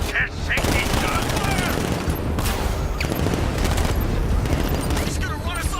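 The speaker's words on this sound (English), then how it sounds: "Can't shake these guns!" Dense, sustained automatic gunfire rattles through a car chase in the video game Batman Arkham Knight, bursts overlapping almost without pause, with shouted voices mixed in over the shooting.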